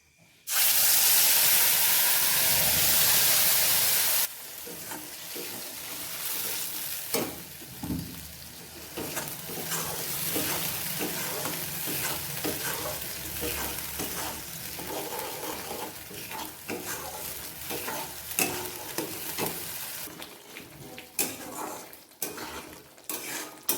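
A ground paste of onion, garlic, ginger, green chilli, cumin and coriander hits hot oil in a pan with a loud burst of hissing that settles into a steady sizzle under scraping and clinking stirring, with no voices.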